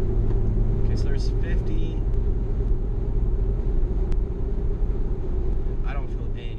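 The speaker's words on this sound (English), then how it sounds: "Now the tire noise is definitely coming in, but the vibration is not there like I felt before." A car fitted with Centramatic wheel balancers drives along a road. Steady low tire roar and road rumble fill the cabin throughout, with brief muffled voice sounds over it.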